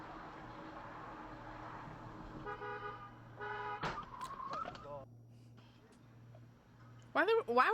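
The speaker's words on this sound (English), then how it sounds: "Why were they honking?" Two short car horn toots sound at moderate volume in traffic, over steady background noise and music.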